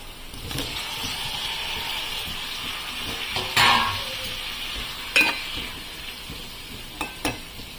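Tomatoes dropped into onions frying in a pan, a continuous hiss of sizzling oil with a few sharp stirring clacks and scrapes of a utensil against the pan.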